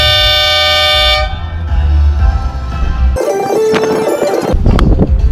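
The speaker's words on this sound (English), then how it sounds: "I'll put the camera way down over here and honk the horn, and we'll see how loud it sounds from this far away" An air horn honks outdoors about 10 meters away: one blaring, harmonic blast lasting about a second, followed by a few seconds of mixed noisy rumbling and clatter.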